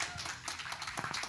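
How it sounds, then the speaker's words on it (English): Scattered clapping from an audience at a spirituality talk, brief and moderately close, with faint voices underneath. "y'all give him another round of applause"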